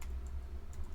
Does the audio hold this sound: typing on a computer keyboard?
yes